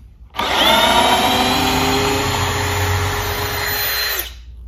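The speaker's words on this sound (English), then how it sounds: "this drill has plenty of power to do it in speed one. These are 6-inch structural screws." A cordless drill in low speed drives a 6-inch structural screw into fresh wood, one continuous loud whirring and grinding burst of about four seconds that starts and stops sharply.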